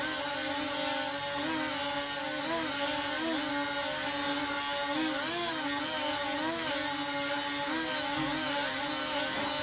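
Motors and propellers of a Z51 Predator FPV drone spin in a steady whine, with several tonal layers that waver and rise in pitch as the throttle changes, close and continuous.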